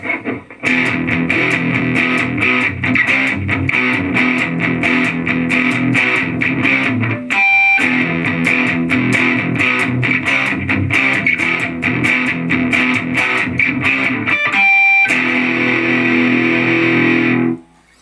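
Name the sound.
electric guitar through amp modeler, dirty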